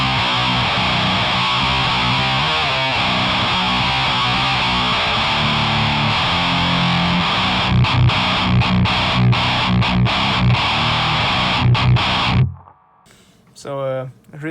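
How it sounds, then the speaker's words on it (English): HM2-style Swedish death metal tone from a heavily distorted electric guitar, buzzy chugging riffs played loud and dense for about twelve seconds, then cutting off abruptly into near silence with a brief final burst. "So a really classic Swedish death metal sound"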